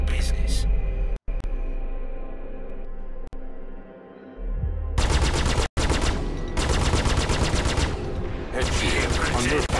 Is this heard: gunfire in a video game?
yes